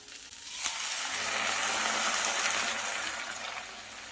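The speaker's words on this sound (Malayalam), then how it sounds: "തേങ്ങയുടെ രണ്ടാം പാട്ട് ചേർത്ത് കൊടുക്കാം" Second-extract coconut milk is poured into an okra curry in a pan, a broad splashing gush that swells after a brief clunk and holds steadily, close and moderately loud, no voices.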